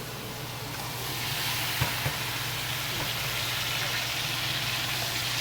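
Sausage fries in bacon grease, a constant close sizzle that grows slightly louder after the first second, with a low hum underneath and a couple of faint utensil taps.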